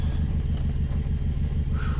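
A Honda Civic engine idles with the choke fully off, a steady, close, low rumbling throb that continues evenly without revving.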